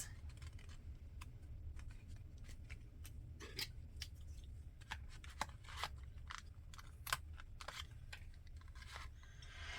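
Scissors snip around paper corners in a series of small, sharp, irregular clicks and cuts, close but quiet, over a low steady background hum with no talk.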